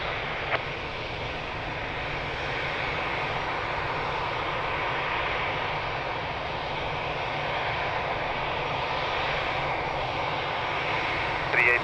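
A passenger plane lands at Lisbon Airport, a loud, sustained broadband engine roar with steady rushing noise that holds for the whole stretch, heard from a spotting position near the runway.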